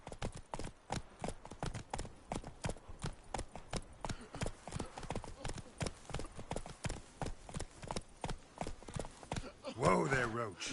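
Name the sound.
horse Roach trotting in The Witcher 3 video game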